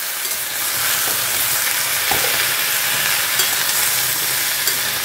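Mixed vegetables fry together in one pan, giving a loud, even, continuous sizzling hiss up close with a faint stir or clink now and then.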